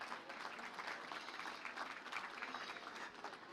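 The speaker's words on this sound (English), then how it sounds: "Give them a great big round of applause." Sustained applause from the ringside crowd at a county fair swine show, honoring the livestock division winners; steady, dense clapping with no voices over it.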